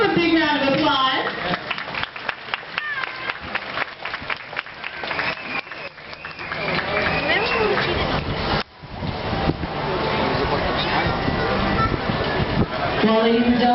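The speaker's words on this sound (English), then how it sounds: "Let's give him a big round of applause." A dolphin show audience at the Gulfarium bursts into applause: dense clapping that starts in sharp claps, then swells into a loud, sustained roar of hands and cheering from the crowd lasting the whole stretch.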